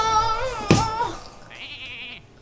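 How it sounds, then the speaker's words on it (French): A cartoonish sheep bleat from the card game Hearthstone, a single wavering nasal baa at close range and full volume, followed by a brief bright chime from the game. "Mouton."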